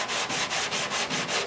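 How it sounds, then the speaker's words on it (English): Close, rhythmic scratchy strokes of hand sanding a Bondo surface in a cross-hatch pattern, about seven quick back-and-forth passes in a steady rhythm. "So you'll sand this way first, and then you'll sand the opposite way,"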